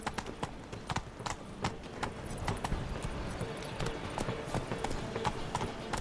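Roach, the horse in The Witcher 3 video game, galloping with steady rhythmic hoofbeats throughout, moderately close, with faint game ambience underneath.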